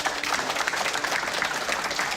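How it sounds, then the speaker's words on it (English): A crowd at a UFC event gives a dense, steady round of applause, with many hands clapping together at a fairly loud level for about two seconds. "Give him a round of applause."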